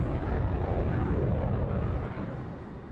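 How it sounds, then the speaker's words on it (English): A jet airliner passing close behind in Microsoft Flight Simulator gives a loud, steady broadband engine roar with no talk over it, and it eases off slightly toward the end. "Who's in the jet? Making a loud noise."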